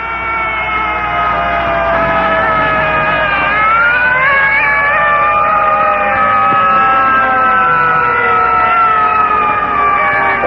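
A 1951 Evanston, Illinois fire engine siren wails loudly and continuously, its rising and falling tones sweeping over a low traffic rumble.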